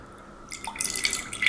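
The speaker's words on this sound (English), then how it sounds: "we're going to pour off the hooch" Liquid hooch poured off a neglected sourdough starter, a soft trickle and dripping that starts after a quiet moment and continues in small splashes, close and fairly faint, with no talking.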